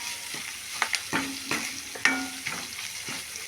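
Tomato rasam ingredients stirred while frying in a pan, a steady run of close spoon scrapes and clinks over a light sizzle, with no voices.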